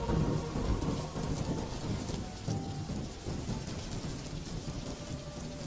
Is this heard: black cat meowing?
no